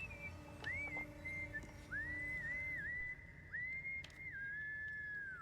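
A melodic whistled tune from Baldur's Gate 3 game music, with clear sustained notes and sliding pitch bends over a soft low backing, steady and moderately quiet.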